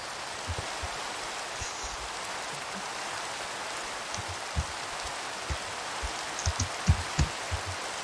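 Rain falls in a steady, close hiss, with scattered heavier drops tapping irregularly on a surface.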